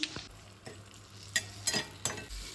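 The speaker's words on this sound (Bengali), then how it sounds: "প্রথমে আমি চিংড়ি মাছটা একটু ভেজে নেব আর এখানে কিন্তু আমি কোনো তেল দিইনি" Prawns dry-fried in a pan without oil, stirred with a spatula so that a few short scraping sizzles burst out over a quiet background, heard close.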